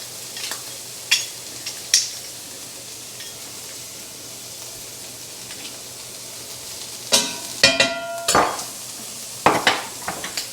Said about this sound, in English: Scrape this up a little bit, get a little bit more out of it.